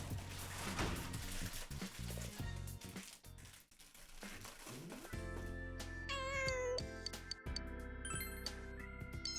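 Cats meow repeatedly in the video game Persona 4 Golden, layered over busy game music and chiming effects, with several distinct meows standing out near the middle and end.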